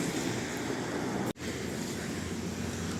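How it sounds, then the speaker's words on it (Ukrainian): Probiy waterfall at Yaremche in the Carpathians roars steadily as broad, constant rushing water, loud and close, with a brief dropout partway through and no talking. "Водоспад пробій, дивіться."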